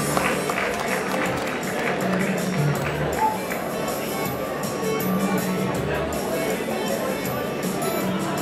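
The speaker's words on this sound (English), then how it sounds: "A huge round of applause for the winning team." Continuous crowd applause for the winning team at an SAEIndia awards ceremony, a dense, even wash of clapping that holds steady throughout without pause.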